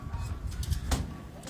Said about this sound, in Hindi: ये कबूतर देखें, आपको मजा आएगा।